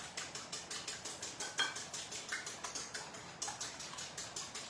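A whisk beating eggs in a bowl, a rapid, regular series of light clinking ticks, close and fairly quiet, keeping a steady rhythm for nearly five seconds.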